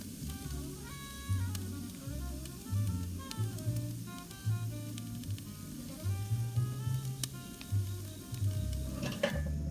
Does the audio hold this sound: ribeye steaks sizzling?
yes